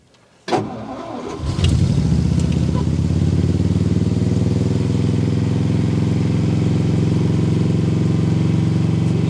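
Old car or truck engine cold starting in freezing temperatures: a sharp crank and catch, then a loud, steady rough idle close by that runs on alone.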